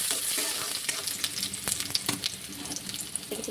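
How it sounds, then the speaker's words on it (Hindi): Steady crackling sizzle of onions frying in hot oil in a home kitchen, with brief clinks and stirring sounds close by. "तेल भी गर्म हो गई है, इसलिए डाल देते हैं इसमें प्याज।"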